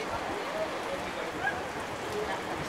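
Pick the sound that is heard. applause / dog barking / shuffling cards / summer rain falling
summer rain falling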